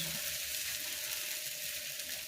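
Rava dosa batter sizzles and fries steadily on a hot pan, a continuous close crackling hiss with no talking.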